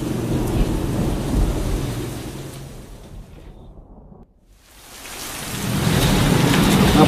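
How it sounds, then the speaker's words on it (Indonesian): Heavy rain pours down in a dense, loud roar with rumbling low-end, briefly dropping away to near quiet in the middle before the downpour swells back in at full strength. "Ngapain hujan gini"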